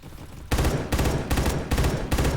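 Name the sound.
burst-fire FAMAS gunfire in a video game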